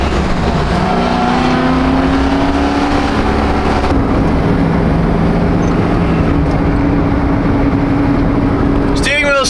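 Corvette engine pulls hard and steady on the road, a loud continuous drone with rising harmonics for about nine seconds, close and unbroken, ending in a sharp sweep of higher tones.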